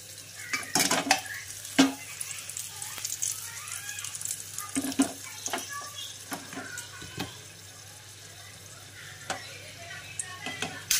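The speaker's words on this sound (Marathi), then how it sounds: "इथं तडका देत आहे छान" Spices such as cumin and red chillies crackle and sizzle in hot oil for a Marathi tadka, with sharp pops and bursts scattered over a steady low hiss, close by and with no one speaking.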